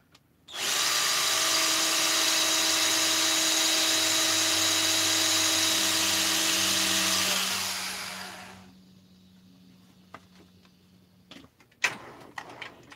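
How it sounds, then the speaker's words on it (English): A loud, steady electric drill with a brand new bit whines into plastic for several seconds while building a Stihl 200T, then winds down and stops, followed by a few faint clicks and knocks nearby. "Oh, I'm drilling into it."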